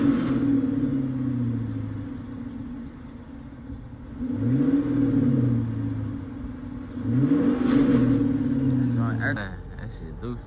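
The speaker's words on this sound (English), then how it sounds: "This how it sound with the factory exhaust." A Chrysler 300C with the 5.7 HEMI V8 and its factory exhaust revs three times in a row, each blip rising to a throaty roar and falling back to a deep idle, heard close up.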